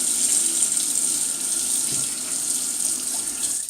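Tap water runs steadily into a sink while preparing to wet-shave, a continuous close hiss and splash with no talking.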